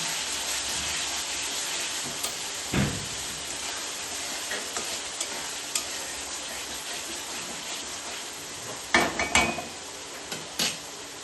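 Spices fry and sizzle in oil in a pan for a rohu-style fish curry with potatoes, a constant hiss with occasional scraping stirs and clinks of a spoon against the pan.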